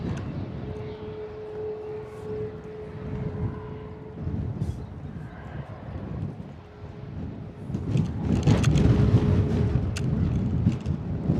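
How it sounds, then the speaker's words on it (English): A Boeing 737 jet engine spools up at a wet, windy Bristol Airport, a steady distant whine and rumble under gusty wind noise that swells toward the end. "listen to the engine startup on that"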